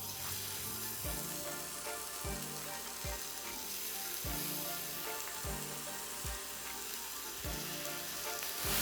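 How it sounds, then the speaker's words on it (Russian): Chicken thighs fry in a pan in their own fat plus a little leftover vegetable oil from mushrooms, giving a steady loud sizzle broken by regular thumping knocks, with no voices. "Так как бедра достаточно жирные, да и от грибов небольшое количество растительного масла осталось в сковородке, обжариваем их, не добавляя лишний жир."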